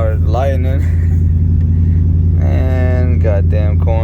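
An E85-powered Ford Lightning truck idles with a steady, loud, deep rumble throughout, heard from inside the cab with people talking over it.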